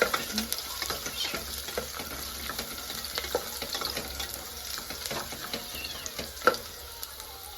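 Onions for fish biryani being stirred and sautéed in a pan, a continuous close sizzle broken by frequent scraping and clattering strokes of the spoon, with no talking.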